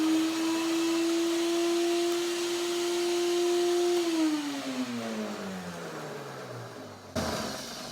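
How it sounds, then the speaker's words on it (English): A high-speed blender grinds walnuts with a loud steady whine that holds, then winds down in pitch as the motor slows, ending in a short clatter. "If you grind it in a high-speed blender just for a second or so"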